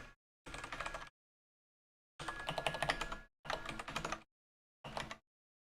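Quiet bursts of typing on a computer keyboard, heard in four separate runs of rapid key clicks with silent pauses between them and no voices.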